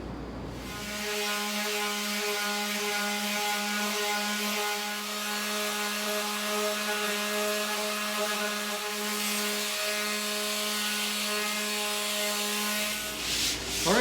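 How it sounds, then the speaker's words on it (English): Steady, continuous hand sanding of a wooden shelf with sandpaper, constant tone throughout, close and fairly loud, with no talking. "Just a little more sanding."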